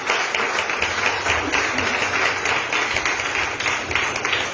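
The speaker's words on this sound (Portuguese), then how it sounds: "Dê uma mais linda salva de palmas para o Senhor." A church congregation claps continuously through a service, a dense, even wash of many hands that holds steady for several seconds with no pauses and no speech over it.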